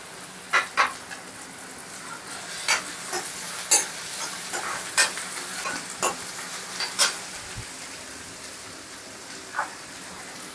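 Shredded cabbage stirred through hot oil in a frying pan for egg cheese pakoda, a steady sizzle broken by sharp scrapes and clicks of the spoon against the pan, close up with no voices.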